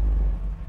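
Big block V8 exhaust on a 1968 Chevrolet Camaro, a short deep low rumble at idle, close and steady.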